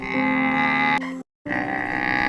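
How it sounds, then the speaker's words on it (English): A camel gives a harsh, sustained, droning groan that is loud and near, broken by a brief silence before the rough call resumes. "camel."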